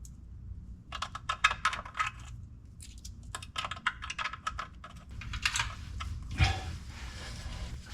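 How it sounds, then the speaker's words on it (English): Wrench clicking while tightening the bolts on the transmission filter of a 2000 Jeep XJ, a run of quick, close metallic ticks and rattles in bursts over a low background rumble, with no talking. "put it into position, and then tighten up these bolts"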